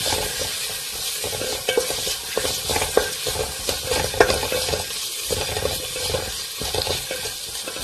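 Tomatoes being stirred into a frying French lentil dal in a pan, with steady sizzling and repeated scraping stirs close by, no talk.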